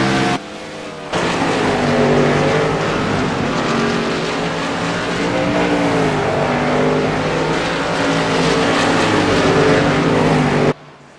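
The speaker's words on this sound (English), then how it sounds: "listen to the sound of the cars around New Hampshire." Sprint Cup stock cars race around New Hampshire, a loud continuous roar of engines with shifting pitch as cars pass, starting after a brief quieter moment and cutting off abruptly near the end.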